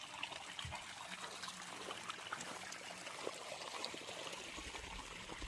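Water trickles faintly and continuously across agricultural land in Telangana, a soft, steady flow with no voices.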